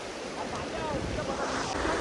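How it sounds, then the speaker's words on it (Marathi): A waterfall roars as a steady, broad rushing wash of water, fairly close and constant, with a faint voice speaking underneath. "आम्ही आलोय आता धबधब्याला. बघू शकता गाईज, जाम भारी धबधबा येतोय"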